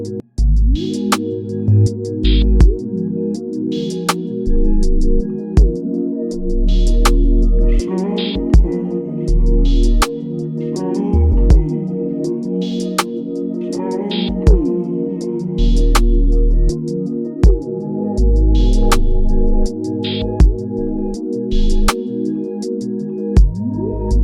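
A beat sample built in FL Studio plays with a sustained synth pad, steady punchy kicks and sharp clicky hits repeating in a bouncy loop over warm held chords, loud and alone.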